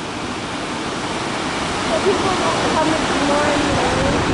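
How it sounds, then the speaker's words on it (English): Rapids of the Niagara River at Niagara Falls: a dense, steady roar of rushing whitewater, loud and close, with a voice faintly audible underneath. "Here's the rapids of Niagara River."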